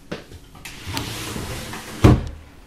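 A storage drawer under a dorm room bed slides and thumps shut with a loud knock near the end, preceded by lighter rattles and small bumps.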